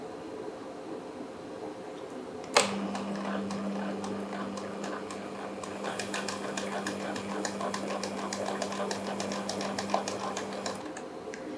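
Sewing machine stitching piping onto a lehenga, starting abruptly and running steadily with a rapid mechanical clatter for about eight seconds, fairly close, then stopping.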